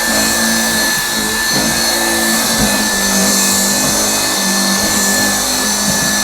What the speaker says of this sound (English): You guys can see the vacuum option works